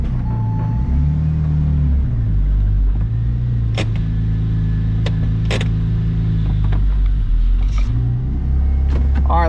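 Engine of a 2004 Porsche 911 Turbo being run on test, with a loud, continuous low rumble that holds steady, shifts in pitch now and then, and is marked by sharp mechanical clicks and clanks.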